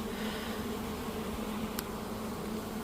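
Bees from an AZ Hive colony install buzz in a steady, dense hum that fills the whole stretch, close and continuous with no talking.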